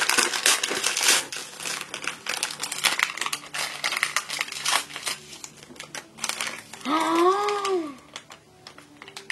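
Plastic packaging for face masks crinkles and tears in a run of crisp, close crackles and rustles, with a brief squeaky sliding sound near the end.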